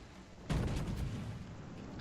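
Secondary guns of the battleship Scharnhorst in World of Warships firing, a sudden heavy boom with a few rumbling follow-up shots that fade into a sustained low roar, moderately loud and without any voice.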